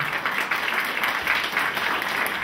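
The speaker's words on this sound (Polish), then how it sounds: "I jeszcze raz brawa." Steady audience applause at a sports awards ceremony, a dense wash of many hands clapping continuously at moderate distance.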